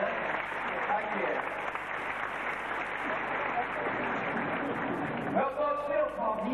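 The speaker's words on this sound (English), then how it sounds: "Ladies and gentlemen, have that a big round of applause for Savannah." A crowd at a SeaWorld killer whale show applauds in a broad, distant wash of clapping, with a voice breaking in near the end.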